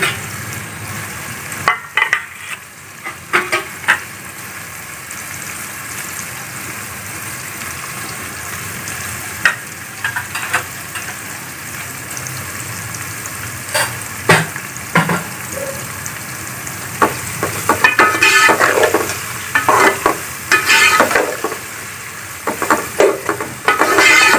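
Onions frying in a pan for an eggplant and potato curry, a steady close sizzle broken by scraping strokes of a spatula, with no talking.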